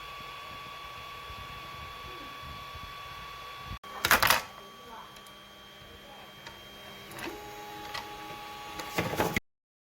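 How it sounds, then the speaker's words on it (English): A 3D printer runs automatically while printing face shields, giving a steady mechanical hum with a few louder clattering bursts and scattered clicks, close by and with no talking. "we are now able to make printing fully automated like this"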